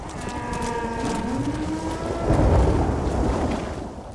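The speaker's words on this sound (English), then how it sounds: "A collective groan from the cattle represents what we are all thinking." A low, drawn-out lowing from cattle in the video game Red Dead Redemption swells through a steady rumbling background, with no one speaking.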